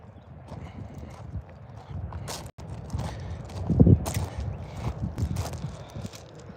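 Stella, a horse with a slight limp in one back leg, walks through a pasture, hooves clip-clopping in a soft uneven rhythm over low rumbling background noise, fairly close.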